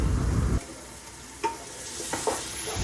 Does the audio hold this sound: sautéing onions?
yes